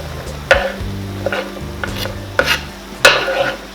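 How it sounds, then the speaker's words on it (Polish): Chopped zucchini is tossed into a sizzling pan with tomatoes, then scraped and stirred. Loud, close spatula clacks land at uneven intervals over a constant hiss. "I teraz po prostu do tego wrzucamy naszą pokrojoną cukinię."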